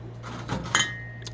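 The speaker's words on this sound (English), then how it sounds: "They are 10-ounce cups that are double-walled, so they are vacuum insulated." Double-walled, vacuum-insulated 10-ounce glass cups clink together in a couple of light, bright taps, close and quiet against a faint background hum.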